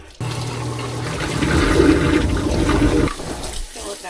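Water rushes steadily into a container while refilling a garden watering vessel, a loud continuous gush lasting about three seconds before cutting off abruptly.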